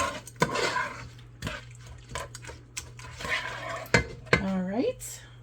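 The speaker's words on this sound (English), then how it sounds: "There's our bacon. And stir that." Bacon being stirred in a pan on the stove, with irregular utensil scrapes and clinks against the metal over a low sizzle, and a brief voice near the end.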